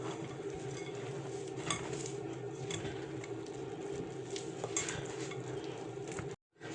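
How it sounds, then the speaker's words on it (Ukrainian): Quiet, close stirring of crushed cookies into a hot chocolate mixture in a bowl, with soft scraping and light clinks of a utensil against the dish over a faint steady background hiss, no talking. "Все ретельно перемішуємо."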